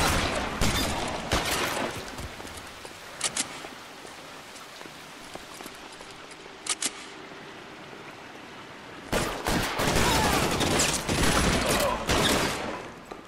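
Shotgun blasts in the video game LA Noire, a few loud, sharp bursts spread across a noisy, crackling background, with heavy clusters near the start and toward the end.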